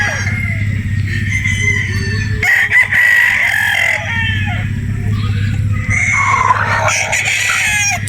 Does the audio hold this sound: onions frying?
no